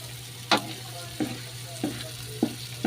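Crushed ginger sizzling in a pan for chicken teriyaki, a steady quiet fry broken by a few sharp crackles and pops, no voices.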